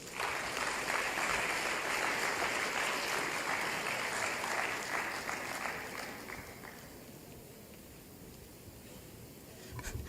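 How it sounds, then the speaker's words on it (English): Audience applause at a democracy dialogue event with Ghana's President Mahama sounds as a steady, moderately distant wash of clapping that fades out over the last few seconds, leaving a quiet room. "Another round of applause, ladies and gentlemen"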